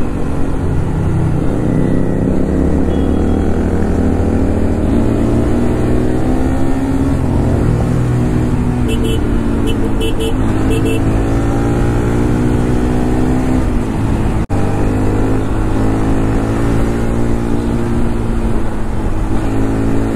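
Royal Enfield Continental GT650 twin-cylinder motorcycle ridden on the road, a loud continuous engine drone with gradual rising and falling revs and wind rush, no speech.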